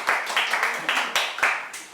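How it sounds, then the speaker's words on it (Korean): A book-launch audience gives a welcoming round of applause for a children's theatre author, with loud, rhythmic clapping that swells in repeated bursts over two seconds. "환영하는 박수를 쳐주십시오"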